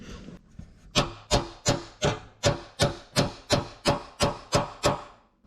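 A knife blade scraped repeatedly along a welded seam of a custom metal truck bed, about a dozen sharp, evenly spaced strokes each fading quickly, close and fairly loud with no talking.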